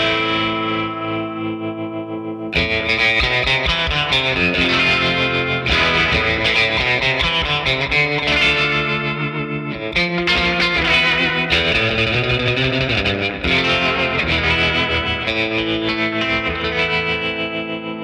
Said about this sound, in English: If we go amplitude, it's that more traditional tremolo that we're used to.